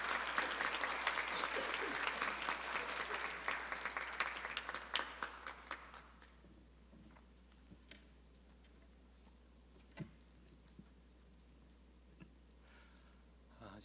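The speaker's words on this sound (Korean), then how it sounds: "우리 목사님 나오실 때 늘 박수로 뜨겁게 환영해 주시길 바랍니다" Church congregation applauding warmly as the pastor comes forward at a Sunday morning service, a dense steady clapping that fades out after about six seconds, leaving only a few scattered claps in a quiet room.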